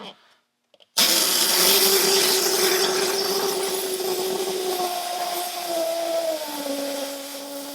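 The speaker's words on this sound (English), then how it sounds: "spin that out and let it start deflating. It kind of sputters a little bit, but that'll level off." Air hisses steadily out of a Nomad wheel tire once the Allen-head set screw is backed out, a loud close rush after a brief quiet start, with a faint whistling tone that slowly drops in pitch.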